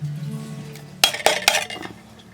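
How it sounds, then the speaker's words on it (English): Diced tomatoes are stirred into gumbo in a pot, a few loud close clanks and scrapes of a spoon against metal after a quieter start with a background hum. "Stir it up."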